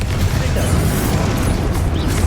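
A steady, dense rumble from Confringo blasting spells in Hogwarts Legacy, with a continuous roaring wash and crackle of magical explosions, combat effects and game music, loud and unbroken throughout.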